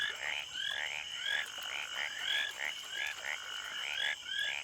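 Frogs or toads croak in a steady chorus, repeated short rising calls overlapping in a regular pulsing rhythm over a constant background hum, moderately near.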